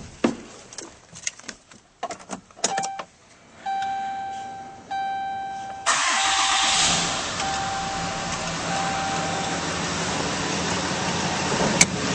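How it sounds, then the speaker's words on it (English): A 2010 Dodge Ram 2500 pickup truck starts up: a series of clicks and door or interior sounds, a steady chime tone, then the engine catches and settles into a loud, steady idle close by. "Let's start this truck up."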